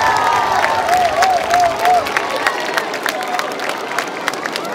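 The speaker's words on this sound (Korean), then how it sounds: "여러분 박수 보내주시기 바랍니다" An audience at an outdoor b-boy festival results announcement on Nodeul Island, Seoul, breaks into applause and cheering that swells, then settles into scattered clapping, with a voice briefly over the crowd.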